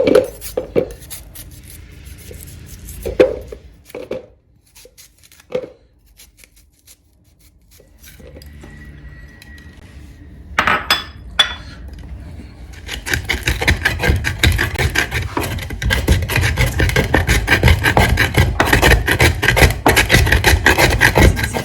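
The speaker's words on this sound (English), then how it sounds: "I'm going to use my hand blender to blend the ginger and the onion" A loud, steady whirring roar of a hand blender grinding chopped ginger and onion, starting after a few quiet knocks and clatters and continuing to the end.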